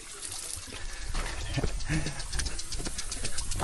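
Strong irrigation water rushing along a farm path among potato and carrot plots, a loud, steady, close hiss and gush that carries on throughout, with faint voices now and then.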